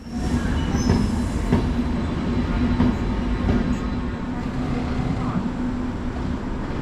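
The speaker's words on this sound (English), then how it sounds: "Our train pulls into the platform around 25 minutes before scheduled departure at 7:15 p.m." A Nightjet sleeper train pulls into a station platform, loud and close, with steady rumbling, wheel clicks and a faint squeal from the rails.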